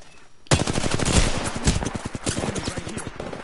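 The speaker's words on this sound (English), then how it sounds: "Getting shot at." Rapid automatic gunfire in a shooter video game, dense bursts of loud close shots firing almost continuously after a brief quiet start.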